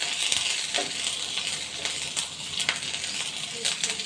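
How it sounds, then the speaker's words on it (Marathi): Finely chopped ginger and garlic fry in a pan, a continuous bright sizzling hiss with occasional louder crackles and stir scrapes, close and steady throughout. "आलं लसूण चांगलं भाजून घेऊया"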